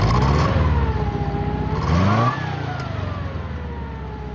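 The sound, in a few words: Nissan Z car engine starting and revving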